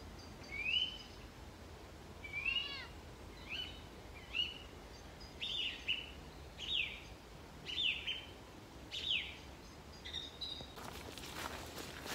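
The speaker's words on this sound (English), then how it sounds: "It's beautiful bird song tonight." Evening bird song in the open air, a series of clear high chirping phrases repeating every second or so at moderate distance over a soft outdoor hush, with footsteps faintly beneath near the end.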